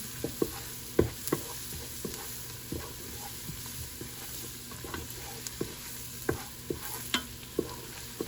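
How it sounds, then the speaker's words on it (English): Chicken biryani mixture stirred in a pan over high heat, a soft continuous sizzle broken by regular spoon scrapes and taps, close and fairly quiet. "I'm still cooking it on a high, like that."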